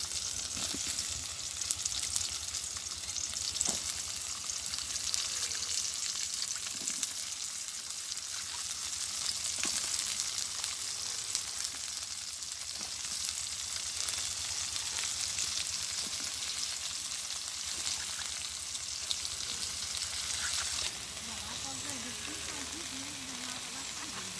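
Taro leaves (kochu shak) fry in oil in a pan in a village kitchen, a steady close hiss and sizzle with occasional stirring clatters throughout.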